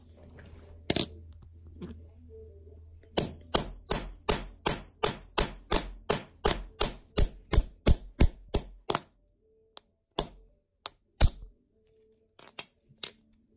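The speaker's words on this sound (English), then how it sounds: "I'm going to hit it with a hammer" A hammer strikes a metal coin punch set on a silver Texas quarter repeatedly, about fifteen sharp ringing blows in a steady rhythm, followed by a few scattered taps; close and loud.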